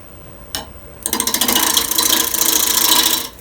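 A wood lathe turning a dry, spalted apple bowl blank at about 1,000 RPM, being roughed out with a swept-back grind gouge. A single knock is followed by a close, rapid, rattling chatter lasting about two seconds, then it stops abruptly.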